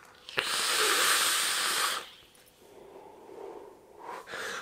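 A long, steady breathy hiss of vapor being exhaled from an e-cigarette, close and fairly loud for about two seconds, then softer breathy puffs follow.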